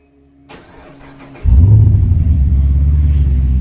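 A Chrysler 300C with its Hemi V8 starts up by remote: a faint click, a brief crank, then the engine catches with a loud, deep rumble that settles into a steady idle nearby.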